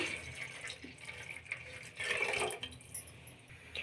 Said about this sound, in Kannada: ಈಗ ನೀರು ಹಾಕಿ ಸೇರಿಸ್ಕೊಳ್ಳೋಣ ಇದಕ್ಕೆ